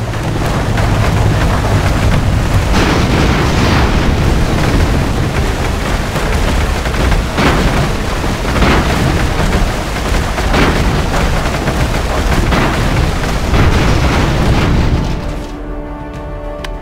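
Loud, dense booms and blasts from rocket explosions in the airship battle game Airships: Conquer the Skies, with continuous rumbling and repeated impacts until everything drops away abruptly near the end.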